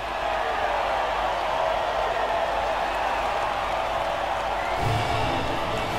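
Crowd cheering and applause at the podium after a Singapore race in an F1 racing video game, a steady broad roar with no breaks, loud and continuous throughout.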